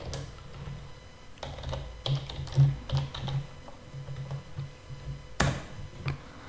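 Keystrokes on a computer keyboard entering a command into a Python shell, a nearby run of quick, uneven clicks and taps with brief pauses and a sharper key press near the end, no talking.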